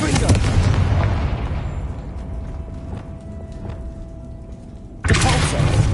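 A Confringo blast spell in Hogwarts Legacy, a loud booming burst at the start that decays into a rumbling tail, followed by another heavy impact near the end, with a voice calling out spell names.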